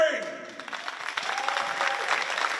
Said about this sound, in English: Please give your hands a big round of applause